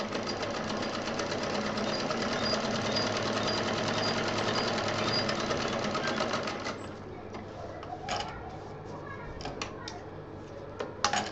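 A sewing machine runs steadily while stitching a quilted DIY pouch, then stops partway through, leaving quieter handling clicks and rustles near the microphone.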